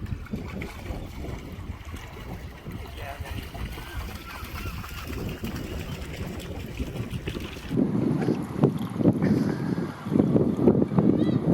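Wind buffets the microphone in heavy, rumbling gusts that grow stronger partway through, with water and boat sounds underneath, on the Scottish coast near Bow Fiddle Rock.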